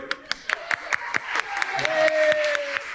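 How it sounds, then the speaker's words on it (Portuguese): Scattered rhythmic handclaps from a small audience at a church sermon, applauding a man, sharp and fairly close, with voices and a sustained vocal tone running beneath. "Aplauda ele."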